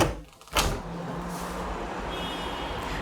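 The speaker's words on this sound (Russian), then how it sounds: "А теперь я открою дверь." An apartment door in Batumi is opened, with a short clunk of the latch after near silence, followed by a rise in steady outside noise, including distant traffic hum, that continues to the end.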